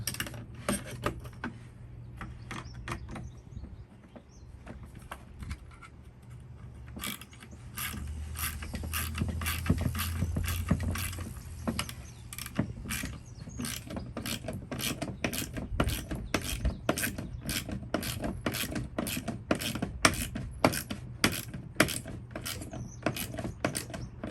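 Socket ratchet wrench tightening bolts on a Toyota Tacoma while fitting a phone mount: long runs of rapid, close clicking strokes at an even rhythm with a faint background hum.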